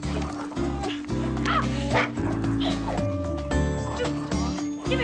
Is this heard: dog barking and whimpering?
yes